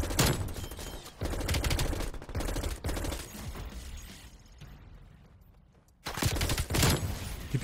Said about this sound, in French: J'ai plus trop de munitions, parce que je tire